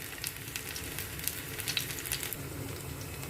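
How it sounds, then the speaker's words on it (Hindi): Pieces of semolina bites shallow frying in oil in a pan, a steady, fairly quiet crackling sizzle with small pops throughout. "ये हम सारे पीसेस ऐसे डाल देंगे जितने भी एक बार में आएंगे, और फिर इसको शैलो फ्राई करेंगे गोल्डन ब्राउन होने तक।"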